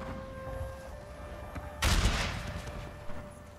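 A massed volley of musket fire from troops in a Total War battle on a Chinese war map bursts out at once, a loud crackling fusillade that rolls away into a fading tail over faint background tones.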